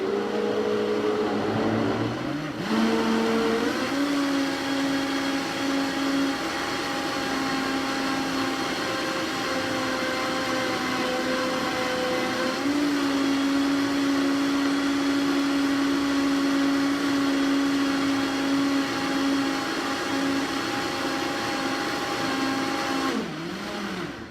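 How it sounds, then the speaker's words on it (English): A blender whirs at high speed through a thick green smoothie for a long stretch, its steady motor drone shifting pitch as the load changes, loud and close with no speech. "Blend it for a couple more minutes because you really need to get it going to get that suction down so that everything is getting blended smooth"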